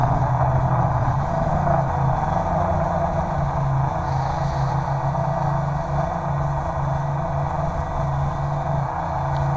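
Kaiser Baas Delta quadcopter drone in flight, a loud steady motor and propeller whine with a constant buzzing hum throughout, close by, with no speech.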